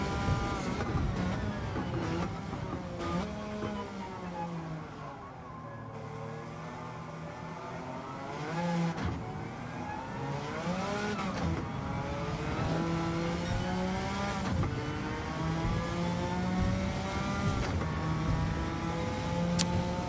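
Suzuki Escudo race car in Gran Turismo 7 lapping the Tokyo circuit, its engine revving up and down steadily through gear changes and corners, with occasional tire squeal, loud and continuous throughout.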